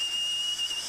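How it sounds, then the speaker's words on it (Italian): A referee's whistle at a football match, one steady, shrill, continuous blast held for just under a second, clear and unbroken. "l'arbitro del fischietto soffia l'orifizio"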